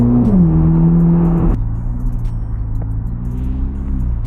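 A 1000-horsepower Corvette ZR1 drives steadily, its engine note dropping as it slows and pulls up, then settles into a low, close idle rumble.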